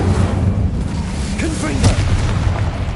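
A fire spell cast in the video game Hogwarts Legacy, heard as a dense low rumbling burst with a crackling swell in the middle, steady and fairly loud throughout, over game ambience and faint voice.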